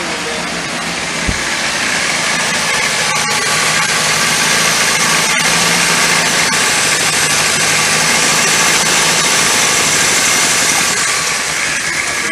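The engine of a 1979 Triumph TR7 idles throughout with a constant rumbling drone and faint vibration, close and fairly loud, with no voices.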